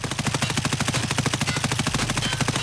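A modded M4 rifle fires full-auto in Escape From Tarkov: a steady, rapid string of about two dozen close, loud shots in an even rhythm without pause.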